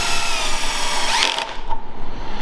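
Power drill with a clutch driving a screw into wood, a steady whining motor that cuts off abruptly partway through, then brief rattling as the clutch slips, close and loud.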